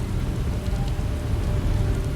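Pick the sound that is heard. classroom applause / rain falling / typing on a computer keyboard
rain falling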